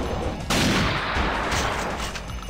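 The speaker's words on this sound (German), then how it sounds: "Hier knallt schon mal ganz schön mächtig." Heavy massed gunfire rages in the strategy game Battle All Out War 2, a thick, unbroken roar of overlapping shots and blasts that jumps in loudness early on and keeps going.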